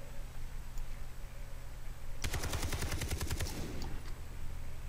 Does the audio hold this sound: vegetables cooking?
no